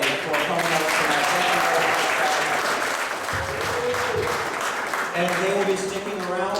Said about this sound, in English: And I'd like to have a big round of applause for everybody for coming out tonight.